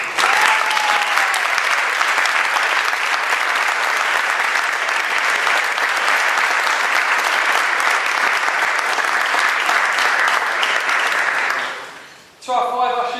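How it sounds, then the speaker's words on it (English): Wedding guests applaud during the groom's speech at a reception, a dense, steady wash of clapping lasting about twelve seconds before it dies away abruptly, followed by a brief different sound. "Can we give them a round of applause?"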